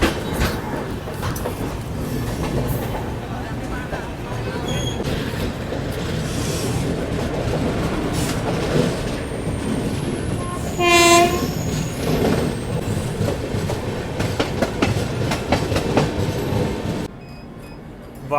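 Indore Patna Express train crossing the Rajghat bridge, a loud steady rumble of wheels on the bridge with a horn sounding midway and clattering rail noise throughout.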